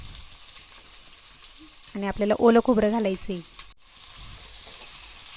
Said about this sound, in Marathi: आता हा कांदा घालायचा फोडणीला।